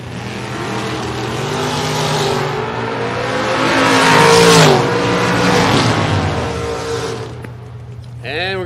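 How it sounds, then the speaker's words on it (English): Drag race engines roar loudly as a door car runs against a dragster, the sound building and peaking midway before fading, with an announcer talking over the noise throughout. "Final door car going to take on the first dragster."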